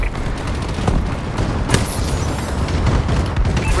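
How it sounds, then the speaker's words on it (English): Friendly bombing run explosions in Call of Duty: Advanced Warfare, a loud, continuous barrage of booms and rapid gunfire with sharp impacts, heavy and close throughout with no talking. "Friendly bombing run incoming!"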